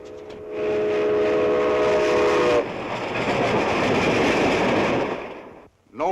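A train runs loud and close, first sounding its whistle in a sustained multi-tone blast, then a steady roar of rolling wheels and carriages that fades briefly at the end.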